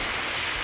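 Water rushes and hisses steadily as it pours onto an outdoor campfire to put it out, a loud continuous broadband wash with no voices.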